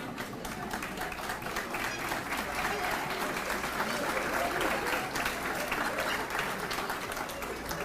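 A banquet audience at an all-sports awards night claps steadily and loudly for the full stretch, a dense roomful of applause with crowd murmur and a voice carrying over it.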